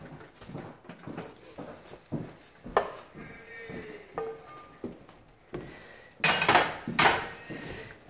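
A pot and frying pan clank and scrape on a stove in a few irregular bursts, with a loud clattering pair near the end against a quiet kitchen background.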